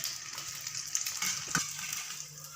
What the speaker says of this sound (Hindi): ये हमने फ्राई कर लिए।